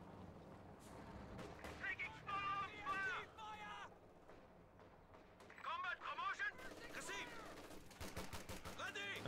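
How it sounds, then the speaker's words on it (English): MG34 and .50 cal machine guns open up in Company of Heroes 2 against advancing Volksgrenadiers, with loud repeated bursts and battle effects carrying through the whole span while a commentator talks over them. "We have the MG34 and the 50 cal machine guns just opening up on the approaching Volks Grenadiers"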